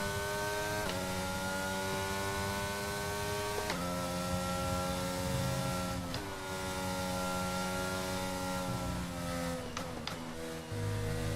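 F1 car engine from F1 22 on PS5 at the British GP, a loud high-revving whine that climbs steadily, then drops sharply at each upshift, repeating several times in close onboard perspective with no talking.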